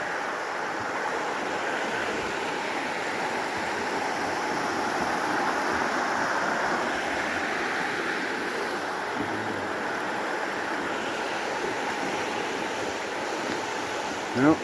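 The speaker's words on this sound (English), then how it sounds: "There's a Gray Wolf River. It's nice that this bridge is here" The Gray Wolf River rushes beneath a bridge along a mountain valley trail, a loud, steady wash of flowing water that continues without a break throughout.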